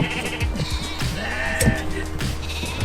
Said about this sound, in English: those sheep we gathered get clipped.